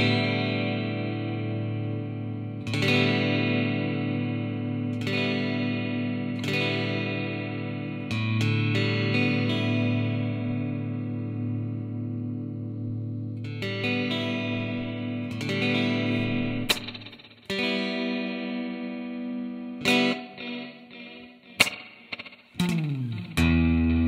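A sustained, heavily processed guitar-like tone runs through the Eventide MicroPitch classic harmonizer effect on an iPad, with thick doubled and detuned layers, repeated struck notes ringing into each other, and sharper attacks near the end, with no talking.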